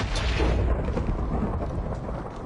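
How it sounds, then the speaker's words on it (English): A long, low rolling rumble of thunder inside a video game, a broad dull roar that fills the moment and then slowly fades, with no voices over it. "Thunder. I like that."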